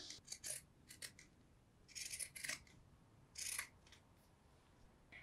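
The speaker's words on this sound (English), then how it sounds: "I'm just going to use my pinking shears to trim up" Pinking shears snip through fabric in short crunchy bursts, several quick cuts in clusters with brief pauses between, quiet and close.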